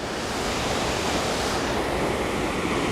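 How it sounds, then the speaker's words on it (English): A waterfall on a whitewater kayak run makes a loud, continuous rushing roar of falling water that stays close and steady throughout, with no voices. "So now Julian had a good line down this waterfall."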